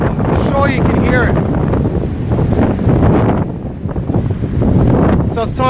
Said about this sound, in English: I'll tell you what, man, this wind.